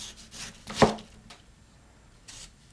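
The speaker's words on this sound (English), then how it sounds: "you just wanna slice it into nice thick pieces" A knife slices a tomato into thick pieces for a jibarito sandwich: one crisp, distinct cut stands out among a few softer strokes on a board, close and fairly quiet, with no talking.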